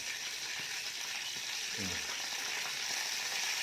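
Mustard seeds popping in hot oil on a home stove: a steady loud frying hiss fills the clip, with a few faint pops and a brief low sound near the middle.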